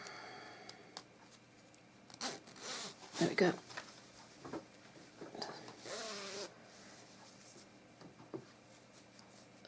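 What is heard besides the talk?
zip being zipped up on a knitted cardigan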